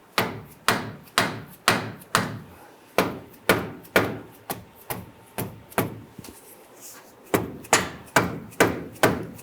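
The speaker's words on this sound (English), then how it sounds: "I'm gonna go ahead and tap this on and do the other side as well" A Ford Mustang steering rack, 1994–2004 model, tapped onto its sleeve with a hammer, about twenty sharp close knocks at a steady rhythm, each with a short ring, pausing briefly midway before resuming, no talk.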